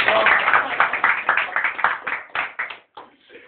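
Crowd clapping for player Oliver Kaan, a burst of dense applause that thins out and fades within a few seconds.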